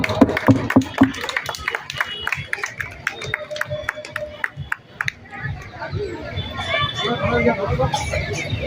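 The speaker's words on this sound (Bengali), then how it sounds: "হাততালি দিন, হাততালি।" At a spring festival event, a crowd claps in quick, irregular bursts while a voice talks over it. The clapping swells into a livelier mix of applause and crowd noise toward the end.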